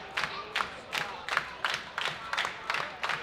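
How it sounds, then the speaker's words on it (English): A wrestling crowd at an indoor match claps in a steady rhythmic pattern, with bursts of cheering on each beat, heard at moderate distance with no talk over it. "Crowd getting into it,"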